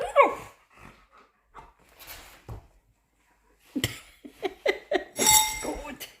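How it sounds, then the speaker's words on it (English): A pet dog gives a few short barks and whimpers in scattered bursts, moderately close, with pauses of near silence between them and faint clinking at the end. "woof woof."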